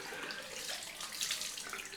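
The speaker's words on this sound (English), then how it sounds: "Cold rinse, because I've done a hot water shave this time." Cold water runs from a bathroom tap for a post-shave rinse, a steady close splashing stream into the sink, soft and continuous.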